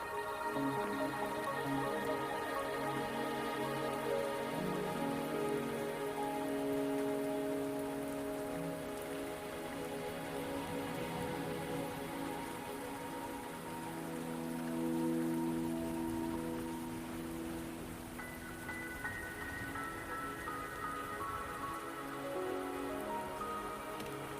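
Steady rain pours down in the Wuthering Waves video game world, a soft continuous patter of drops on surfaces beneath a gentle sustained musical score, with no talking.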